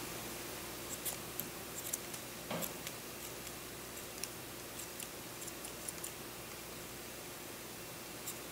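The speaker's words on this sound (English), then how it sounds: "trim your ends equally and even here at the bottom" Scissors snipping the ends of a handmade tassel to even them at the bottom, a string of small crisp clicks spread irregularly over steady background hiss, close but faint, with no talking.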